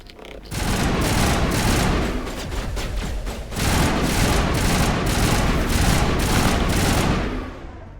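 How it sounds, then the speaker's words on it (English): Sniper laser fire in the video game Mass Effect, heard as dense, rapid volleys of loud blasts crackling continuously in close range, with a short lull between bursts. "I do hear snipe lasers going off in here."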